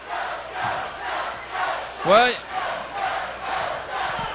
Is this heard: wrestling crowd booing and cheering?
yes